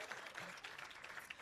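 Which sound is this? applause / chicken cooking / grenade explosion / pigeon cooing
applause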